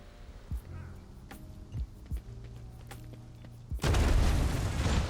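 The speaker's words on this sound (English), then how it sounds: "The blast consumes the ancient weapon." A big blast goes off in Warhammer 40,000: Rogue Trader, destroying an ancient weapon: after a few scattered thumps and low game sounds, a sudden loud, sustained roar of noise fills the last second and a half.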